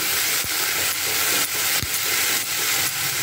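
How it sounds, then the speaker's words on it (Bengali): Ground chilli and cumin paste fries loudly in hot oil for a Bengali tangra fish curry, a constant close sizzle broken by regular scraping strokes of a spoon stirring about every half second. "এবার বেশ কিছুক্ষণ এটা নাড়াচাড়া করে নিতে হবে যতক্ষণ না মশলার গায়ে দিয়ে তেল ছাড়ছে।"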